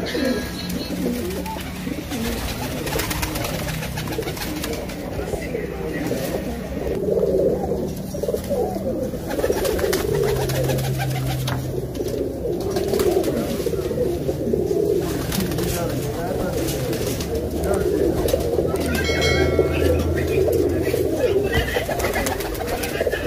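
Black pigeons in Amritsar, Punjab cooing in a steady low murmur of overlapping calls, near and continuous throughout, with faint background voices and other birds.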